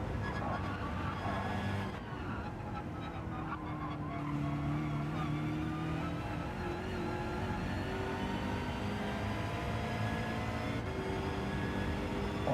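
Race car tires skidding and squealing in Gran Turismo 7, a GR3 car pushed hard in an online lobby race, heard as a steady engine drone with sustained tonal squeal layered throughout, no talking.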